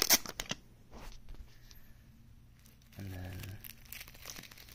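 Bubble wrap handled and crinkled while packing ants for shipping, with quick crackling bursts at the start, then softer rustles and a brief louder crumple near the middle, close and fairly quiet.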